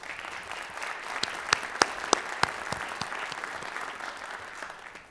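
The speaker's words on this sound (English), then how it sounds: "So a round of applause for all of our sponsors this evening, please." An evening audience in a village theater applauds the event's sponsors, a dense, steady clapping with a few sharp, louder claps standing out, lasting several seconds before tapering off.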